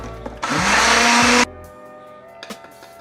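A blender whirs loudly for about a second, mixing oat flakes with half a banana and blueberries, its motor rising quickly in pitch and then cutting off, followed by light clinks and handling noises.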